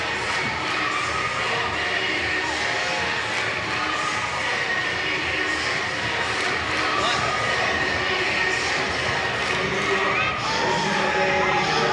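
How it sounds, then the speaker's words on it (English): Stadium crowd at a Banana Ball game in Grayson Stadium doing a church clap: dense, loud clapping and cheering from many people fill the whole stretch, with voices throughout. "it's church clap o'clock here in Grayson Stadium"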